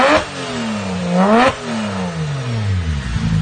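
A 2006 Porsche Carrera S 997 with an upgraded exhaust revs hard twice, its engine note rising sharply and falling back, loud and close with no talking.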